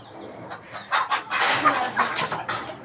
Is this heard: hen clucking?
yes